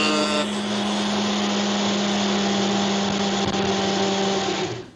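A person imitates a kitchen blender with a loud, sustained, buzzing whir held for several seconds with a steady low hum, then cut off abruptly.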